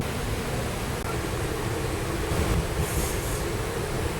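Mangaluru Central Express passenger train running between Pondicherry and Coimbatore, a steady broadband rumble of wheels and carriage heard from on board, continuous and fairly loud with a slight swell midway.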